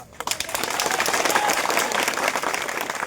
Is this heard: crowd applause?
yes